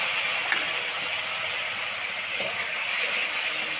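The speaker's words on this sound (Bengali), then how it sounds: "সামান্য একটু মশলাতে কষানোর সময় একটু জল দেবো।" Water poured into spices frying in a pan sends up a loud steady steam hiss, bright and continuous with slight bubbling, close up and with no voices.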